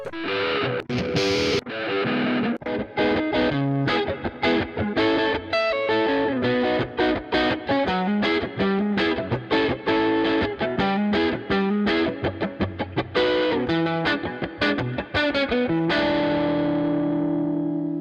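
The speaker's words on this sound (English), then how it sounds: "Now let's do the same thing with the electric guitar DI track. This time I'll select a guitar preset, then I'll tweak it a bit" Distorted electric guitar recorded direct and run through a tweaked guitar preset plays a busy run of chords and single notes for about eighteen seconds, then ends on a sustained ringing chord.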